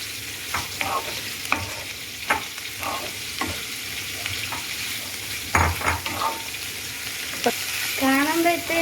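Mushrooms sizzle in a pan with onions while a utensil stirs and scrapes in repeated sharp strokes over a steady frying hiss, with a brief bubbling burst near the end.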